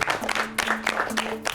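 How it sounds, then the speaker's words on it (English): A round of applause from a small group at a junior pie-making cooking competition, dense clapping filling a brief burst with no talk over it. "So a round of applause to all of you."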